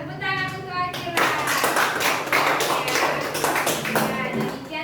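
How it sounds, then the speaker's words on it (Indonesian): Children clap together in a classroom for a classmate, a dense burst of close hand claps that builds after a second and carries on steadily, with a few voices mixed in. "Ya, tepuk tangan untuk Akila."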